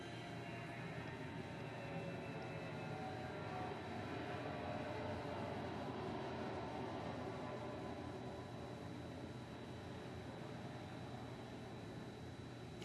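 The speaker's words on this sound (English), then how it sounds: "what is it with all the airplanes this morning?" A steady, broad roar of jet aircraft passes overhead in early morning at Yosemite, constant and distant-sounding, with no voices.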